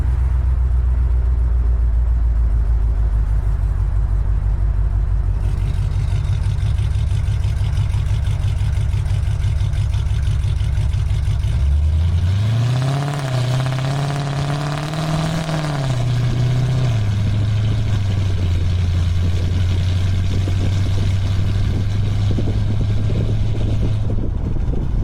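A loud 2014 Jeep Grand Cherokee with an aftermarket exhaust idles with a deep rumble, revs up sharply midway, then settles back to a steady, slightly higher idle.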